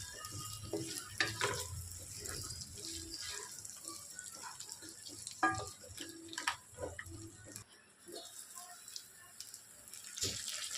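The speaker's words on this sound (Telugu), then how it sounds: "చూసారా, చేపలు మంచిగా ఫ్రై అయిపోయాయి" Dried fish frying in a pan with ginger paste for a bottle gourd and dried fish curry, a steady close sizzle broken by occasional clinks and scrapes of stirring, with no talking.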